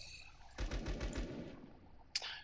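A quick burst of rapid gunfire using BP ammo in the ZERO Sievert video game, several fast shots in a row followed by a single sharp click.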